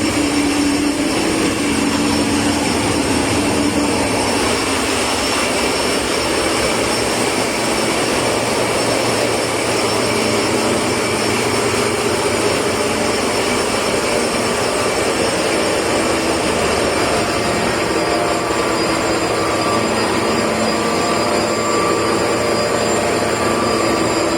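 Loud, constant roar of a merchant ship's engine room machinery, a dense droning hum with steady high whine that never lets up, no voices.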